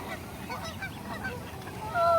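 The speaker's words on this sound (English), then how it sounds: "Oh, goosies." Geese honking at a park, a flurry of overlapping calls over outdoor background noise, growing louder and closer with a strong burst of honks at the end.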